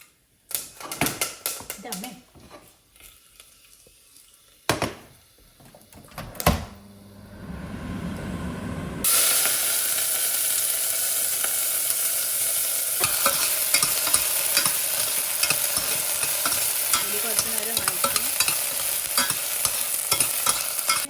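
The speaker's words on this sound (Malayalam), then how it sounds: "ഇനി നമ്മൾ വറ്റൽമുളക് ഇടുകയാണ്" Dried red chillies hit hot oil in a home kitchen pan and set off a loud, dense sizzle that surges up partway through and crackles steadily to the end, after a quieter stretch of scattered clatter.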